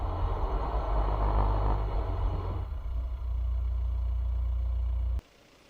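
A GWM Cannon 2.0 4x4 pickup in eco mode and two-wheel drive with its engine under light throttle, a loud steady low drone that eases briefly then holds before cutting off abruptly, with wheel spin.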